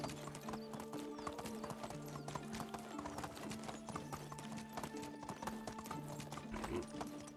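Steady hooves clip-clopping at a quick trot, with an occasional horse whinny, over a busy background of music and game effects in Medieval Dynasty.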